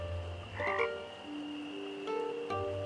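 A frog croaks in the video game PRIM, a few resonant, ribbity calls over a low, steady ambient hum, with several sustained tones entering and fading in the game's soundscape and no talking.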